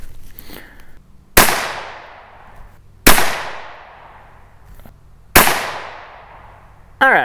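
.17 HMR rifle shots fired at a target: three sharp, loud cracks spaced a couple of seconds apart, each ringing out briefly, with a fourth starting at the end.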